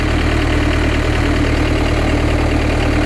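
A car's engine runs with a loud, constant drone and whine from the fourth-gear overdrive transmission, an unbroken close hum with no talking.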